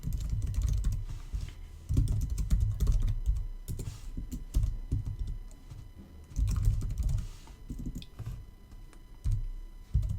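Code is typed on a computer keyboard in bursts of quick, close key clicks with short pauses between runs, fairly soft and with no one speaking.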